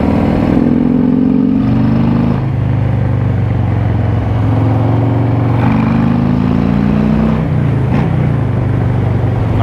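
A Harley-Davidson Fat Boy motorcycle rides along a road, its engine droning loud and steady close by, with pitch shifts as it changes gear, over continuous wind and road noise.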